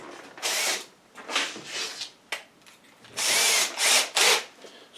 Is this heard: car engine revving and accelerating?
no